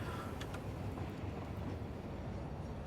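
Trains run in a factory-building video game, a low steady rolling rumble with faint clatter, even and continuous at a moderate distance, with no talk over it.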